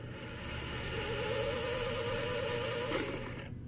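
A UHER Royal De Luxe 294 reel-to-reel tape deck running fast forward, its tension arm roller bearing giving a steady, fairly quiet mechanical whir and hum that drops away near the end.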